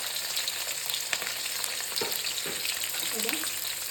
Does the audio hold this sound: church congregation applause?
no